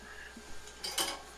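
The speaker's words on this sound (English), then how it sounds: "my husband was putting dishes away from the dishwasher," Dishes and cutlery clink and clatter a few times nearby as they are put away from a dishwasher, with a brighter clatter near the end, like plates being stacked away in a kitchen.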